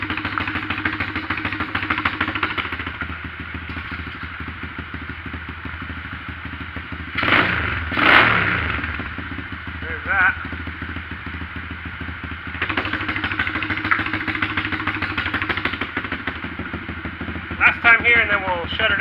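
Pit bike engine fitted with a cheap $20 aftermarket muffler, idling with a steady mid-pitched drone, then giving short throttle blips around the middle and near the end, with voices talking over it.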